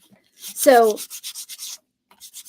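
Short bursts of hand sanding on wooden sign stands, a quick rhythmic scratchy rubbing repeated several times with pauses, close by. A brief tonal squeak comes near the start.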